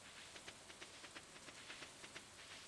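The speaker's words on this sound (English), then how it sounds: "Yep, it's raining today." Rain falls steadily in a video game as a faint, even hiss broken by regular soft pattering ticks, with no voices.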